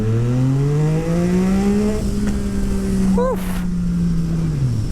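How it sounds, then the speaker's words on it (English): A Yamaha MT-09 three-cylinder motorcycle with a full Akrapovic exhaust growls close and loud, its pitch rising and holding, then dipping at the end, while a rider's voice is heard over it. "the 3-cylinder has such a nice note to it"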